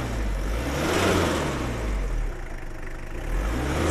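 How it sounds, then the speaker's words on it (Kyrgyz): A Hyundai Porter truck engine runs steadily up close, a rough, rattling low rumble with a slight swell in revs near the start, heard on its own without voices. "Тырылдаган мотор үнү достор."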